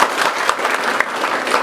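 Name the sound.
students clapping hands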